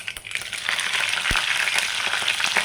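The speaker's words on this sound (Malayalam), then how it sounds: "വെളിച്ചെണ്ണ ചൂടായിട്ടുണ്ട്. അതിലേക്ക് 1 ടീസ്പൂൺ കടുക് ചേർത്ത് കൊടുക്കാം. അപ്പോൾ കടുക് പൊട്ടി വരുന്നുണ്ട്." Mustard seeds and green chillies fry in hot coconut oil, giving a close, loud, steady sizzle scattered with sharp pops and crackles across a few seconds, with no voices.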